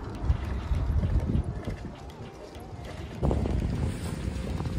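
Cold wind gusting across open rice fields in Japan, a steady rushing roar buffeting the microphone that eases briefly and then surges again.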